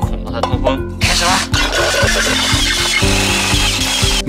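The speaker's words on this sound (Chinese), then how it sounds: "这个底上需要打一些小孔让它通风" A drill bores small ventilation holes in the base of a metal milk powder can for a homemade wood gasifier stove. Close and loud, it gives a whining, grinding screech in repeated bursts with brief stops between holes.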